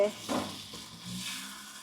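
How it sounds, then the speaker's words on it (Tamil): Long beans curry for a Jaffna-style dish is stirred in a pan, with a soft sizzle and a couple of brief scraping stirs, quiet and close. "எல்லாம் சேர்த்து கிளறிட்டு"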